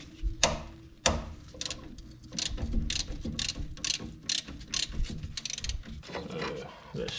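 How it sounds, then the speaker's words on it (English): A ratchet unbolting the 14 mm strut mount on a Honda Accord 2.4 during a passenger-side axle replacement, with repeated close, rapid clicking bursts and metallic ticks, some sharp knocks, in uneven rhythm. "I'll probably go ahead and get the strut mount unbolted first."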